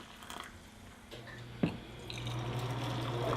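Hot drink poured into a cup outdoors at a cabin during fall foliage season, a steady close liquid trickle rising in pitch as the cup fills, with a brief knock partway through.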